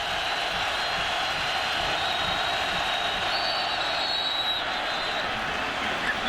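A football stadium crowd roars on 3rd and 1 during a 2009 Mississippi vs. South Carolina game, a steady, dense wall of cheering and noise that holds throughout, loud but distant.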